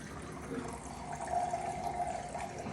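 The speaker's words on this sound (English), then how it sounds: "we're just gonna flush this here. Put some water through here." Water runs through a newly installed reverse osmosis system as it is flushed, a soft steady trickling and pouring that holds evenly throughout, fairly quiet and close, with no one talking.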